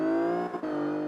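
Car engine revving high in first gear in Forza Motorsport 5 at Catalunya, a steady loud close whine with a short dip near the middle before it picks up again.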